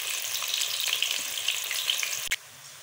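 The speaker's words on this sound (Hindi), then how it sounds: "अभी हम इसमें शामिल करते हैं 1 अदद जो है चॉप किया हुआ प्याज। इसको हल्का ब्राउन कर लेते हैं।" Chopped onion fries in hot ghee for a chicken and pea handi, a continuous bright sizzle with scattered small pops and a brief utensil clatter near the end, after which the sizzle drops lower.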